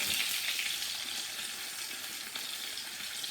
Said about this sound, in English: my eggplant. It's sizzling hot.